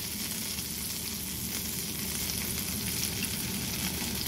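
Garlic frying in melted butter in a pan, a steady, even sizzle that holds close and unbroken throughout, with no talking.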